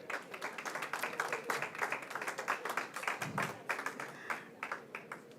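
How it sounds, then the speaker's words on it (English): A conference audience at a cultural diplomacy arts event gives a modest round of applause, fairly faint and distant, with individual claps audible in an uneven rhythm as the clapping thins out. "Let's give them a round of applause while they get back to their seats."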